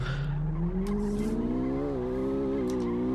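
A BMW M3 sliding sideways in City Car Driving, its engine holding a steady rising drone with a continuous tire squeal over it throughout, close and fairly loud.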